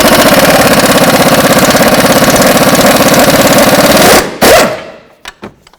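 A pneumatic impact wrench hammers steadily at a ball joint nut on a 2003-08 Toyota Matrix, a loud rapid rattling burst lasting about four seconds, then stopping with a few short metallic clanks.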